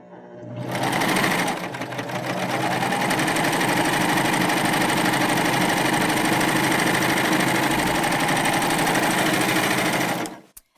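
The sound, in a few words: Baby Lock Euphoria cover stitch machine sewing a hem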